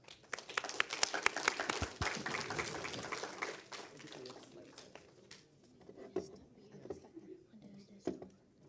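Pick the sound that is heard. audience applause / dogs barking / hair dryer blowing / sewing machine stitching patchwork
audience applause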